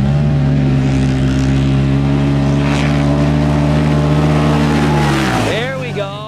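A Polaris RZR Pro R UTV roars down a drag strip, its engine a loud sustained drone held near the microphone before dropping off sharply near the end.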